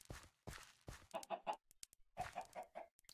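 Several chickens cluck in short, bright bursts in a Minecraft game world, the calls spaced irregularly with brief quiet gaps between them, fairly close and clear.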